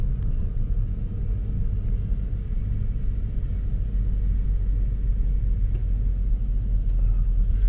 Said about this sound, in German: wir fahren hier schön langsam einmal hier um den Kreisel